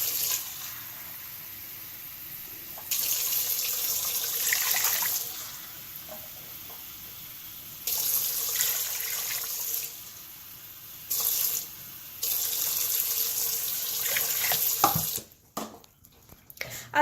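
Hot water pours into a stand mixer bowl for sandwich bread dough, a steady rushing splash that starts and stops in several bursts before cutting off near the end.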